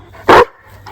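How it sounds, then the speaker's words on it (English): A dog gives a single short, loud bark at close range in an outdoor autumn setting in New Zealand, followed by quiet and a faint trailing sound. "It was a half a bark, wasn't it?"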